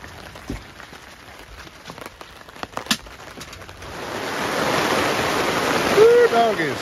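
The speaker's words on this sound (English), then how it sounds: "Nope, here comes the rain." Rain begins falling at an outdoor camp in the southeast Oklahoma woods, quiet scattered ticks at first, then swelling into a loud, dense, steady hiss that holds to the end.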